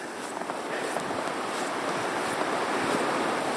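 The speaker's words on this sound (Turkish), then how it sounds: "Rüzgar çıktı." Steady wind gusting outdoors on a snowy day in Finland, a broad continuous rush with slight swells, fairly loud and close to the microphone, with no voices.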